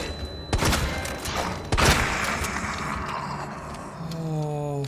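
A flashbang grenade in Resident Evil 2 detonates in two sharp, loud bursts about a second apart, followed by a sustained ringing tone and lingering game noise.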